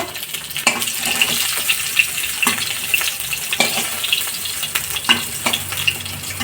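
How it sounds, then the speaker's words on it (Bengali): Pieces of pointed gourd (potol) frying in hot oil in a pan, giving a steady close sizzle with irregular crackles and occasional stirring clatter throughout, with no voices. "পটলগুলো ভাজা হয়ে গেছে, এইবার তুলে নেব।"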